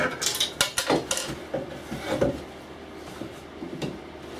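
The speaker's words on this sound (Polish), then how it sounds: "Musimy tu naciąć niedużą szczelinę przy pomocy piły w przedniej ściance" A hand saw rasps through the front wall of a wooden birdhouse, cutting a small slit in a run of short, rhythmic strokes, loud and close, then slows to a few lighter scrapes.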